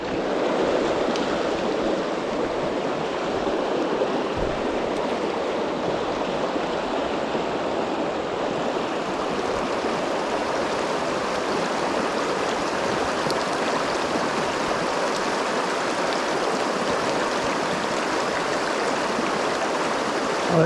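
Steady rush of a flowing river on a Border/Solway salmon fishing trip, constant broadband water noise close by with no speech over it.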